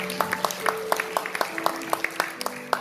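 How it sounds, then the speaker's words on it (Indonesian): A church congregation claps together during a Pentecostal worship service, with quick, evenly spaced claps in a steady rhythm over sustained held music tones at moderate loudness. "Tepuk tangan buat Tuhan."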